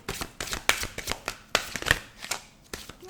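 A deck of cards is shuffled by hand in quick irregular bursts of riffling and flicking, close and fairly quiet, with almost no voice present.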